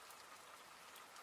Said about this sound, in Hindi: हम भी तो बारिश से बचने के लिए यहाँ बैठे हैं